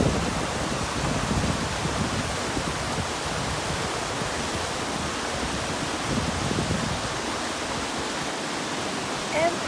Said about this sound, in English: We could just listen to the water move if you want to,